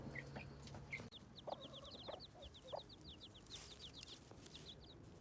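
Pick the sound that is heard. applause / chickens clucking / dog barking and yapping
chickens clucking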